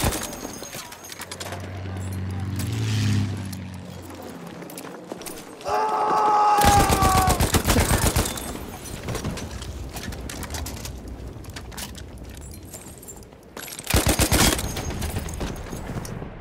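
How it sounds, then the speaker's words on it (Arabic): Battlefield 1 Conquest Assault match with bursts of enemy machine gun fire: dense rattling volleys around the middle and again near the end, amid battlefield ambience and a short stretch of talking. "رشاش للعدو هناك!"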